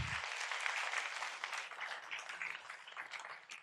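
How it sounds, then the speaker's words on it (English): Applause from the audience at a city council meeting, a dense crowd clapping that stays steady for a few seconds and then starts to thin out toward the end. "It deserves a round of applause for sure."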